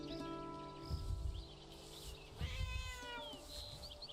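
A cat creature in the space exploration game No Man's Sky meows and yowls twice, close and clear over a steady low game ambience and faint chirps.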